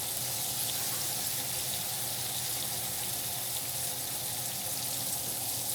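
Steady water runs from a kitchen tap into a sink, a constant close hiss and splash that holds at an even level with no voices.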